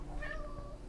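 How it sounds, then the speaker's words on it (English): A single short cat meow, close and fairly soft, rising and falling in pitch. "if you heard him little meowing"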